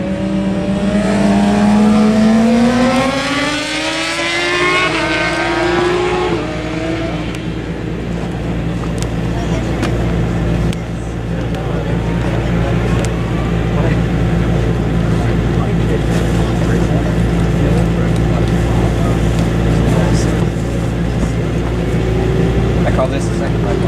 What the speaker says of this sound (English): right now the SportBike's on track